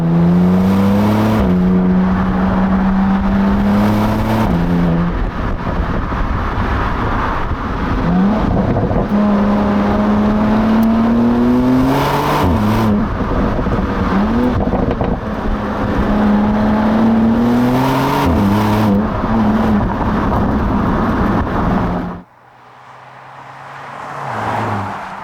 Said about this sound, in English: Let's pop it into manual mode, engage sport, the dash changes, let's go.